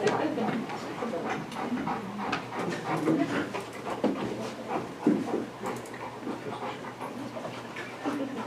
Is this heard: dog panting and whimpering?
yes